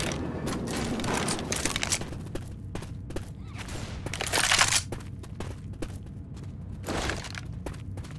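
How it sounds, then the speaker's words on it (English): Weapon reloading in the zombie shooter Left 4 Dead: mechanical clicks and ratcheting clacks come in short bursts over a dense bed of rolling gunfire, with one louder swell midway. "Reloading!"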